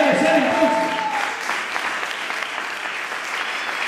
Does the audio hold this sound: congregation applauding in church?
yes